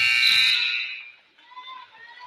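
Loud end-of-quarter buzzer at a high school boys basketball game between Mauldin and Hillcrest, a sustained harsh blare that fades after about a second, followed by quieter crowd and court noise.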